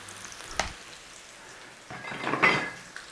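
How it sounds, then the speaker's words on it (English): Onions hit hot oil in a pan and sizzle softly, with a single sharp knock early on, then a fuller frying hiss that rises and crackles before easing off. "Start to cook out the rawness of the onions in there."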